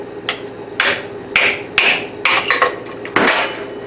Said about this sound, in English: we're going to go back at it with this chisel